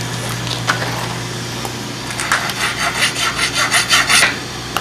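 A 12 mm glass tube is scored for cutting in a neon workshop, a dry rasping scrape that repeats in quick rhythmic strokes, growing louder toward the end, close and alone with no talk.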